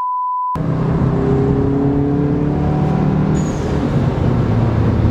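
A VW MK7 GTI with a Forge blow-off valve under boost, engine droning loudly at around 5,000 RPM after a short test tone, with a faint high whoosh near the end.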